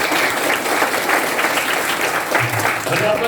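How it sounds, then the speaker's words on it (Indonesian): Seminar audience applauding a trainer, with dense, steady clapping held at an even level throughout, faint voices mixed in underneath. "Beri aplaus yang luar biasa."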